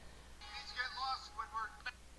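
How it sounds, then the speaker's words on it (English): A phone notification chime: a short, faint electronic jingle of a few rising tones, followed by a quick final blip, heard in a quiet room during a talk. "my phone volume is on and I forgot to turn it down, and that was my notification sound"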